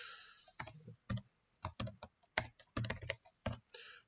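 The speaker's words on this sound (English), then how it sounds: "So click on the tag, click on the text, and just type the room name." Typing a room name on a computer keyboard, separate bursts of crisp key taps broken by short silent gaps, close and clear with no voices.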